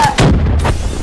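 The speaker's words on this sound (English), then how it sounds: "That bomb did it fast, though." A bomb goes off in a Call of Duty match, a loud, close, heavy booming blast with a sharp onset and a rumbling tail, repeated once more in quick succession over a full low-end roar.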